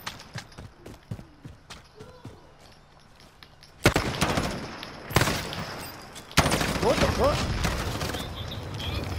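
Bursts of gunfire in the Warzone battle royale shooter: scattered light shots and faint steps at first, then heavy close volleys breaking out in clusters, loud and dense, with brief gaps between sustained rapid firing.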